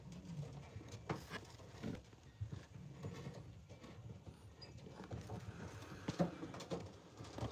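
Racing pigeons settled in their nests in a loft, with soft low cooing and murmuring throughout, mixed with shuffling, light taps and wing flutters at a close, quiet level.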